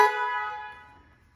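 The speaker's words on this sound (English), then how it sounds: "this button will activate the air horn, which is pretty loud" A single loud, blaring air horn blast from a ride-on GP40 model locomotive, with a bright, chord-like tone that sounds briefly and then fades away.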